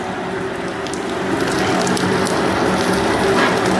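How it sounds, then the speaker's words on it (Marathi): Flames flare up in a cooking pan in the kitchen of Hotel Swagat in Saswad, Purandar, making a steady, close, roaring hiss that swells slightly toward the end, with no talking. "अभी इसमें अपन लगाएंगे थोड़ा सा आग"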